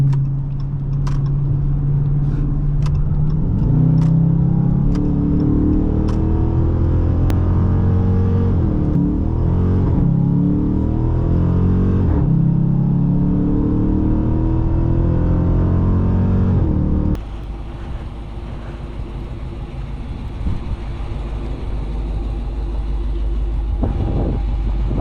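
A 2021 Dodge Charger R/T driving through a corner, heard from inside the cabin as a steady low engine rumble and road noise, with some clicks early on, then a sudden drop to a quieter, smoother drone partway through.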